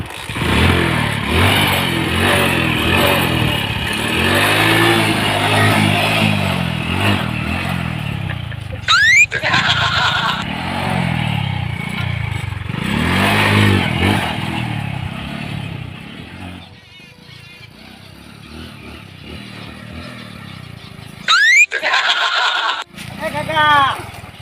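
A battered old motorcycle is kicked and cranked repeatedly, its engine sputtering, catching and revving in uneven bursts with squeaky mechanical clatter, while people talk over it throughout.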